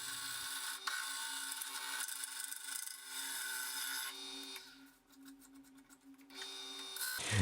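A chisel cuts wood spinning on a lathe for a wooden zoetrope toy. A continuous close rasping hiss rides over a steady motor hum, shifting to rapid chattering scrapes near the end.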